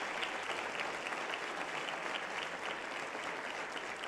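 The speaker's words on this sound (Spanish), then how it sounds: "Fuerte el aplauso." Sustained applause from a church congregation, a thick, unbroken roar of clapping hands that holds level for several seconds with no speech over it.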